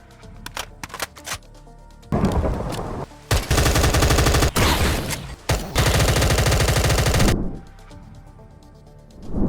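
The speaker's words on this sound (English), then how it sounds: "Here's a quick showcase of the reloading in some of these guns." Guns in Minecraft modern combat mods firing and reloading, with scattered mechanical clicks and clacks, then loud dense bursts of rapid automatic fire broken by short pauses, ending in more reload clicks.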